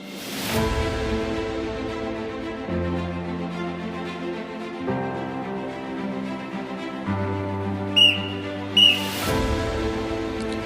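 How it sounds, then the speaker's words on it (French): Two short, sharp referee's whistle blasts signal halftime at a football match, cutting through steady background music, one quickly after the other. "Le coup de sifflet de l'arbitre se fait entendre."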